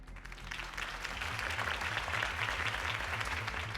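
Crowd applause at a mayoral campaign speech in the Batman: The Telltale Series video game, a continuous wash of clapping that swells slightly and holds steady, with a low rhythmic music bed underneath.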